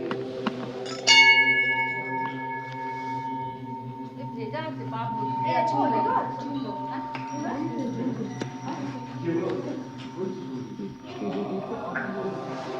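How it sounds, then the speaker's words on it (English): A Buddhist monastery bell at Ghoom, Darjeeling, is struck once, ringing out with a bright metallic tone that lingers and slowly fades beneath a low steady hum and murmuring voices. "There is the holy bell."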